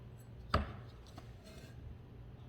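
A single crisp knife chop through cilantro on a cutting board, followed by a couple of faint softer cuts, close but quiet in a calm kitchen.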